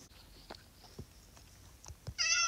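Cats in the video game Minecraft give a few short, faint meows spaced across a couple of seconds, ending in one louder, closer meow.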